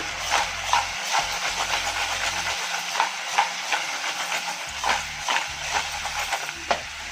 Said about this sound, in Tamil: இப்போ இஞ்சி பூண்டு போட்டு சும்மா பரட்டி விடுங்க